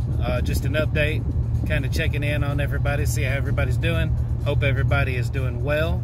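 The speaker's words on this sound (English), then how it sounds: "I'm in my truck, headed to work." The cab of a pickup truck hums with a steady low engine and road rumble on the way to work. Someone talks continuously over it at close range.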